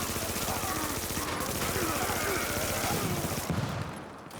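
Rapid video-game gunfire aimed at the player rattles in a dense, continuous burst for about four seconds, loud and close, then cuts off abruptly.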